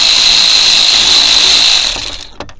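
A power ratchet runs a bolt out, giving a loud, high, steady whine for about two seconds before it cuts off and rattles briefly to a stop.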